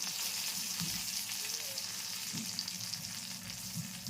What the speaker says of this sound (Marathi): तर तेलात जरा गरम करून फ्राय केलं ना, पटपट सोडतात मिरची.